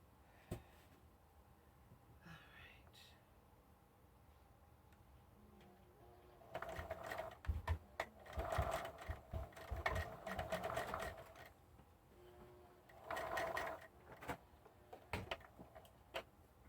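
A sewing machine stitches a channel along a raised V neckline, running in two bursts of rapid, steady stitching, a longer one and then a shorter one, separated by quiet pauses with faint handling sounds.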